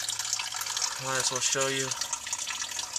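Fluid trickling and draining from the engine block of a Ford 6.9 diesel with a leaking head gasket, a steady splashing flow heard close up while someone speaks briefly over it.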